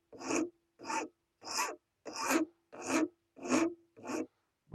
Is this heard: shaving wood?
yes